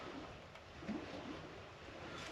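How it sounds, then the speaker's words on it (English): Rough ocean waves roll outside a truck camper after a thunderstorm, a muffled continuous surf wash heard from inside, soft and steady with faint low rumbles. "I can hear the waves out there"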